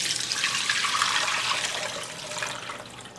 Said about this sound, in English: let's strain out that water